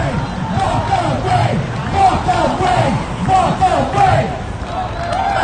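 A crowd of Trump supporters outside Baltimore City Hall chants a short slogan in unison at a rally, loud and rhythmic, the phrase repeating in regular waves with shouting voices over general crowd noise.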